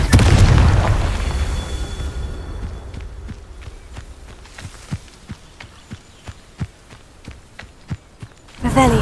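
A Confringo fire-blast spell explodes in Hogwarts Legacy with a loud, booming burst at the start, then a run of sharp thuds and footstep-like hits, and another heavy blast at the end. A voice speaks briefly.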